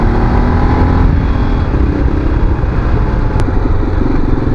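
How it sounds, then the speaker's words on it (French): An Aprilia Tuareg motorcycle engine runs loud and steady close by, a continuous throaty rumble held at revs without pauses. "C'est un moteur qui joue un petit peu dans les tours."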